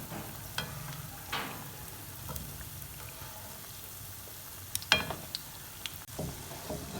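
Sweet tikki patties frying in a pan over medium-low flame, a soft continuous sizzle with occasional scraping and clinking of a utensil as they are turned, fairly quiet and close.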